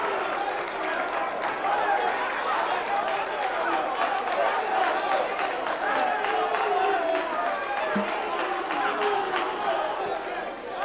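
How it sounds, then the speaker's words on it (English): A quiz show audience gives sustained applause for the contestants at the NSMQ2020 grand finale, dense clapping mixed with crowd chatter and cheers, steady throughout. "a round of applause to all our contestants."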